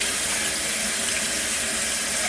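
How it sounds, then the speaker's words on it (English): Tap water runs steadily into a kitchen sink as freshly harvested produce is rinsed, a continuous, close, full splashing rush with no voices. "I'm moving this to the sink where I'm going to give it a quick wash"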